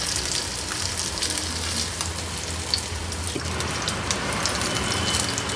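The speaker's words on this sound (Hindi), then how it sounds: "मैंने हर तरफ से घुमाकर इसको तल लिया है। डीप फ्राई करने की ज़रूरत नहीं है" Tandoori soya chaap shallow frying in a pan of oil, making a dense, steady close sizzle like light rain that keeps going without pause, with small pops here and there.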